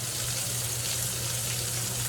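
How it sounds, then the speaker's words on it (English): Constant broadband hiss of quail sizzling in a hot pan before butter is added, steady and close with no pauses, over a faint low hum. "Listen to that sizzle."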